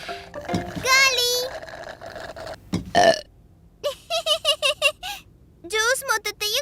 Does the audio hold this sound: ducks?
no